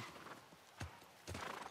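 Horse hooves clip-clop at a walk with a neigh in The Last of Us Part 1 video game, a few soft distinct hoof thuds over a low, quiet game ambience.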